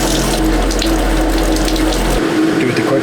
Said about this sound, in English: we have nothing but water going through the pump